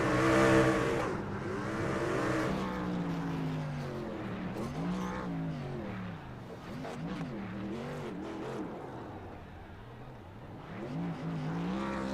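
An iRacing Craftsman truck series race truck holds a sustained high-revving burnout in a simulated race at Kansas, its engine note wavering up and down steadily and loudly for several seconds.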